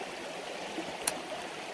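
Creek water flows steadily under a small bridge on a rainy walk, a constant close rushing wash with one brief sharp tick partway through.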